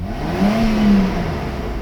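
The V12 engine of a Mercedes 600SL revving up toward redline, a loud close engine swelling and falling away within a couple of seconds.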